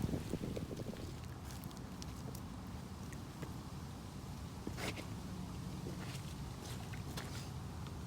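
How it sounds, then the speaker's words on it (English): Gusty wind buffets the microphone in a constant low rumble, with occasional brief knocks and rustles over the roar. "It's a little bit windy"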